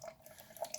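A Keurig brewer dispensing hot water during a rinse cycle after cleaning, with faint, soft dripping and trickling patters close by.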